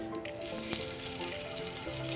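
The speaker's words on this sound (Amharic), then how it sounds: "ወፈር ያለ መጥበሻ ላይ በጣም ከጋለ በኋላ ዘይት እናረግበታለን" Lamb ribs fry in oil in a thick, very hot pan, giving a steady close sizzle with faint crackles and stirring throughout, and no one talking.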